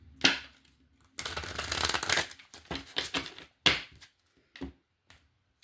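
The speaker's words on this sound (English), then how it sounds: "One more shuffle." Cards being shuffled in a couple of riffled bursts with a bridge, followed by a few sharp taps of the deck being squared.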